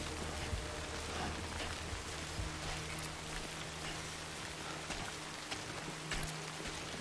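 Steady, even rain in the video game Death Stranding hisses continuously throughout, a dense wash of drops with no voices and no breaks.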